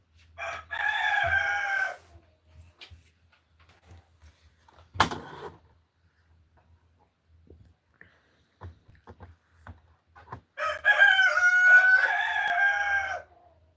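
Two loud, close rooster crows bracket a quieter stretch, one at the start and one near the end, with a sharp knock and scattered faint clucks and shuffling between them.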